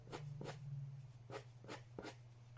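Colored pencil strokes scratch on paper in quick, close, quiet bursts, about six short rasping drags in an irregular rhythm over a faint steady hum.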